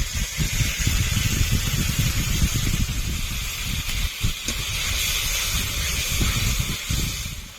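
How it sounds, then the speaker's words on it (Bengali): Water poured into a hot pan of frying ginger, garlic, cumin paste and dried red chilli paste makes a loud, continuous steamy hiss with a rough, rumbling undertone that surges and fades unevenly. "মশলা ধোয়া জল দিয়ে দেব।"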